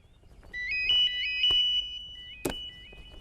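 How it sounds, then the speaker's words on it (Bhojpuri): A mobile phone rings with a repeating electronic melody, fairly clear and close, punctuated by a couple of sharp knocks, with no voices. "अरे हाँ, फोन बाजता"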